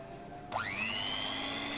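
Electric kitchen grinder switched on for a test, its motor spinning up from silence into a loud, steady high-pitched whine that holds to the end.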